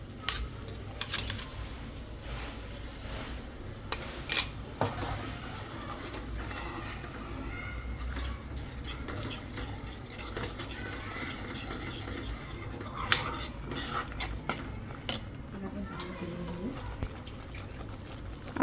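Ground masala paste thinned with water is stirred in a pan for an okra masala dish, with repeated scraping and clinking of a spoon against metal and soft wet bubbling, steady and close over about eighteen seconds.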